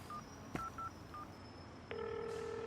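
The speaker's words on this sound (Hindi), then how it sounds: "ऐसे टाइम पर ही हमेशा फोन आता है" A telephone in a Hindi-dubbed action film scene sounds a few short electronic keypad beeps, then a steady electronic ringing tone takes over, clear and close with no talking.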